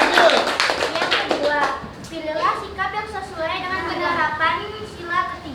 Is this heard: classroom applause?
yes